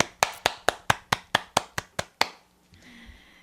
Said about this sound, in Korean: 여러분께 네, 박수를 쳐드리고 싶습니다.